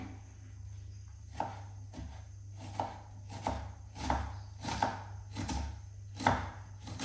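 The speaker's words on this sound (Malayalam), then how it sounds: "അപ്പോൾ അതിന് വേണ്ടി ഞാൻ ഉള്ളി ഒന്ന് ചോപ്പ് ചെയ്തെടുക്കുകയാണ്" A knife chops onions on a cutting board for egg curry, a steady run of about ten crisp, close taps in an uneven rhythm over a low constant background hum.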